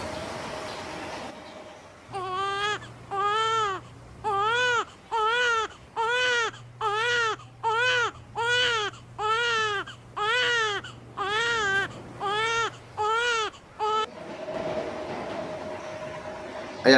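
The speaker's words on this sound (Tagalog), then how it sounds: "Panoorin po natin ang video ng isang sanggol na isinilang sa ibabaw ng lupa." A newborn baby, just born on the ground, cries in a long run of about a dozen evenly spaced wails. Each wail is loud, close and rhythmic, with brief gasps between them and a quiet background.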